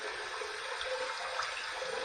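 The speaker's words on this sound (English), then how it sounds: "we're going to run this under some cold water just to kind of cool it down a little bit" Cold tap water runs steadily over a bronze open-comb safety razor, a continuous soft hissing splash at close range, fairly quiet and unbroken, with no talking.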